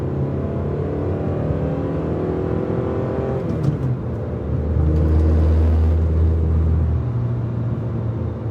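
An Acura 2.3CL accelerates on the road, its engine droning in a rising harmonic whine that climbs through the gears. A brief shift dip comes midway, then a deeper, louder rumbling pull holds steady inside the car.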